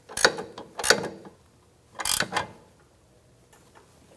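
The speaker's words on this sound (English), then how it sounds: "And then we'll torque it down." Ratcheting clicks from a torque wrench tightening an 18 mm sway bar link nut on a 2013-2022 Buick Encore front suspension, in three short bursts of close mechanical clicking separated by pauses.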